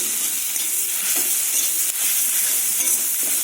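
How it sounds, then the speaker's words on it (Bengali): Onion, green chili and mashed peas fry in a pan with a steady close hiss and crackle, a few faint stirring strokes underneath and no one speaking. "পেঁয়াজ কাঁচা লঙ্কাটা একটু ভালো করে ভেজে নিতে হবে"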